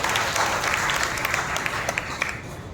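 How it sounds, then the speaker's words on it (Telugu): A church congregation claps through a Sunday worship service, a dense, steady patter of many hands with sharper individual claps standing out, moderately loud and continuous from start to finish. "చప్పట్లు కొట్టి మనం దేవుని కనపరచాలి"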